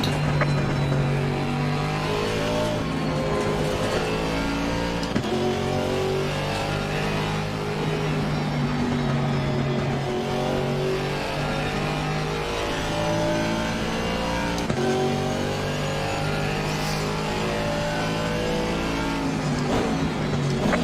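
Mercedes AMG GT4 race car in a GT4 racing game at Barcelona, its engine loud and continuous throughout, revving up and down through gear changes with steady high-pitched whine on top.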